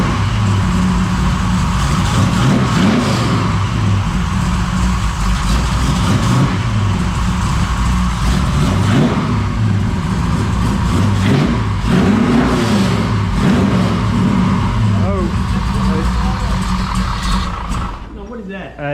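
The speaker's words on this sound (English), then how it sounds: "obviously it fired up. We're making some noise now." A 1969 Camaro with a 496 V8 runs loud and close on its first start, a heavy rumbling idle with blips of revving, while people talk over it.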